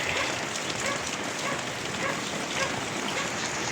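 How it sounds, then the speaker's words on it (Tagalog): Steady rain falling on a surface at an outdoor vegetable market stall, a dense, even patter that fills the whole moment with no voices. "pero maulan"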